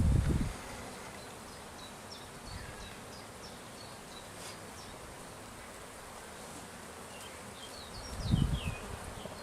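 Worker honey bees buzz around a hive during a colony split, a soft steady drone with scattered higher whines, bracketed by dull knocks of frames being handled at the start and near the end.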